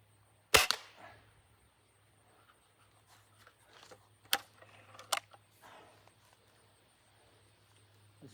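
Beeman 1022 .22 air rifle fired through a chronograph, a sharp close crack followed by two further sharp reports a few seconds later, with faint handling noise and a low steady hum in between.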